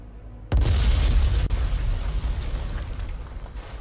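Bomb dropped from a Pe-2 dive bomber exploding on tanks in IL-2 Battle of Stalingrad, one sudden heavy boom that hits hard, then a long deep rumble slowly fading under engine noise.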